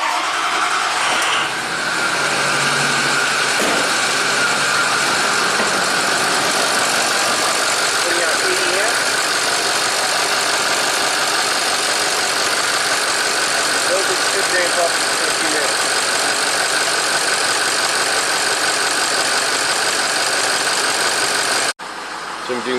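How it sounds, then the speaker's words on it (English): A Ford PowerStroke diesel engine, just fitted with a replaced alternator, cranks and catches, then idles in a steady, loud, close clatter for about twenty seconds before cutting off abruptly. "Let's fire it up and see if the alternator works."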